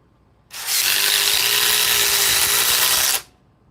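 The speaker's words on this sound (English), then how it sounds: "PBL IDO2 with the new 4 amp Edge battery with the tabless technology." A Ryobi PBL IDO2 impact driver on a 4 amp Edge tabless battery runs in one steady, loud burst of about two and a half seconds, close up, with a sharp start and stop and no talk.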